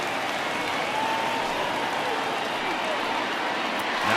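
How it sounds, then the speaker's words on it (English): Ballpark crowd in MLB The Show 20 cheering a record-breaking hit, a broad, steady wash of applause and crowd roar that swells slightly at the end, with faint talk beneath. "His crowd is going crazy, as they should, recognizing the historic magnitude of really an unbelievable accomplishment."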